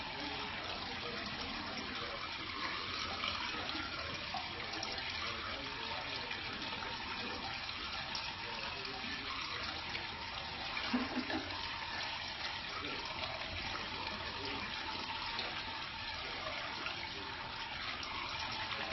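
Tap water running steadily while a face is rinsed, a continuous close splashing gush with slight variations, no clear speech over it.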